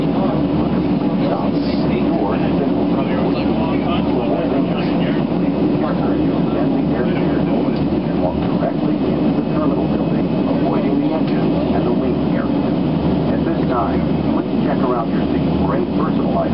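A Central Mountain Air passenger airplane landing at Lloydminster, heard from inside the cabin: a steady, loud engine and airflow roar with rumble that continues throughout, and voices beneath it.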